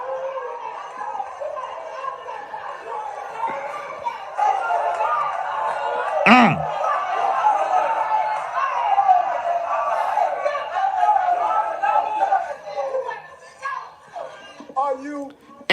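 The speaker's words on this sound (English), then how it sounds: "And you hear people in the crowd. They're supporting him." A crowd murmurs and calls out in support during a speech by the New York mayor, a dense babble of many voices with one brief loud howl-like shout rising above the continuous noise.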